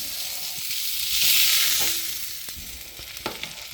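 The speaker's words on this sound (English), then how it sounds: "You're not going to be able to sear the whole surface because of the way the shoulder is bent, but you can hold it around with the tongs." Venison shank searing in a hot pan, turned with tongs, gives a steady close sizzle and crackle that swells midway and then settles, with a few sharp pops near the end.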